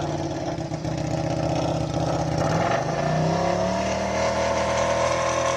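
A KTM-powered race car sits at the start of a hill climb at the Cape Town Speed Classic. The engine is loud and close, rumbling and then revving upward in a rising pitch sweep as it pulls away.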